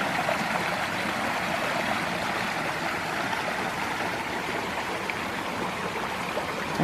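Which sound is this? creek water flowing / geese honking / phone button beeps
creek water flowing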